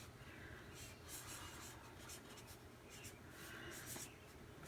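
Pen writing in a spiral notebook, a steady close scratching of strokes against paper that continues throughout.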